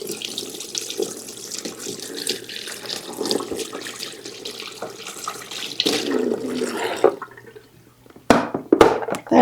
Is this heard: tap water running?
yes